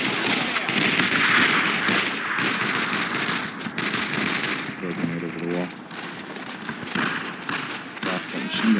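A machine gun fires in the World War II shooter Brothers in Arms: Road to Hill 30, steady loud rattling bursts and scattered gunshots filling the whole stretch while someone talks over the battle.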